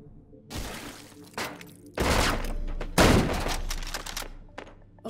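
Heavy video game shotgun blasts, three big booming shots spaced about a second apart with crashing, shattering tails, close and loud with no talking.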